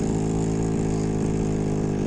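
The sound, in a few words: goped scooter engine idling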